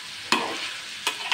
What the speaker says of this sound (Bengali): আমার সবজিটা ভালো করে নাড়িয়ে ভাজা কিন্তু কমপ্লিট